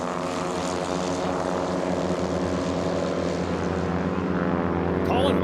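Two STOL drag race propeller airplanes, one a Carbon Cub with a Titan 370 engine, roar loudly and steadily at full power on takeoff, a dense droning buzz that holds throughout.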